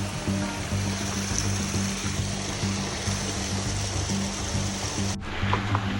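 A waterfall in Tasmania's bush rushes in a steady, broad roar of falling water, constant and fairly close, with no voices over it.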